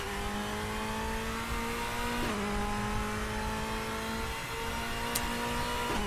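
A DTM touring race car in RaceRoom holds a steady, droning engine note under load throughout, with a couple of brief gear-change dips and a faint tire squeal, no talking over it.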